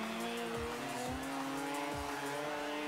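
A Mazda RX7 drifts in the racing game Forza Horizon 2, its engine droning loudly and steadily while the tires squeal in long sliding bursts, close and unbroken, with no voices.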